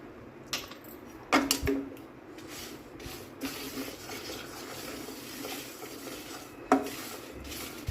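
Sesame seeds being stirred in a pan while making traditional Telangana gongura pachadi, with faint dry scraping and a few louder clinks of a spoon against the metal pan over a low hum.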